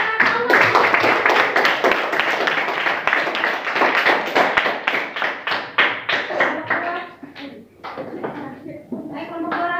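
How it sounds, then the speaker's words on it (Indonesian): A classroom breaks into applause, many hands clapping in quick rhythmic bursts that gradually thin out and become uneven, with voices talking underneath. "kita beri aplaus kepada Allah"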